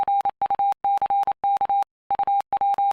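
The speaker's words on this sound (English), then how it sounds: "all curse words will be replaced by their Morse code equivalent" Bursts of a steady electronic Morse-code beep covering a curse word, loud and close, pulsing in quick groups of short and long tones separated by a brief pause.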